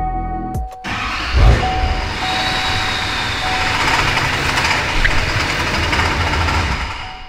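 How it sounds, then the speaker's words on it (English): A car engine runs steadily in the engine bay of a widebody Scion FR-S after a new system saver battery install, with tools left loose under the hood adding a continuous rattle and knocking over a broad, even rumble. "don't leave tools in your engine bay, all right? They're gonna make some noise."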